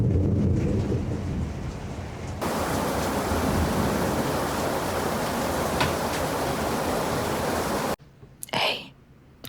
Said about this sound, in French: C'est relaxant, je trouve, le bruit de la pluie et de l'orage et tout.